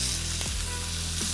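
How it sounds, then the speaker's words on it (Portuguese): Filet mignon sizzles loudly in a little olive oil in an iron pan as it sears, a dense, close, continuous crackling hiss. "E vamos levar para uma panela de ferro para grelhar. Vou colocar um pouquinho só de azeite"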